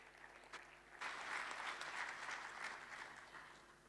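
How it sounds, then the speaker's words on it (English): Audience applause at an investment conference, rising suddenly into a sustained round of steady clapping from a sizeable crowd in a hall after a few scattered early claps. "Ladies and gentlemen, can we have a round of applause?"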